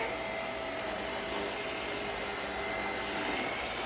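A vacuum cleaner sucks up spilled kinetic sand with a steady, loud, continuous roaring whine that holds throughout without pause.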